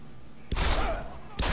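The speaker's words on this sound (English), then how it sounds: "shoot all the cops in Detroit" Gunfire from shooting police in Deus Ex: Human Revolution, set in Detroit, with a dense burst of rapid shots lasting about a second, then a short pause and another burst starting, loud and close.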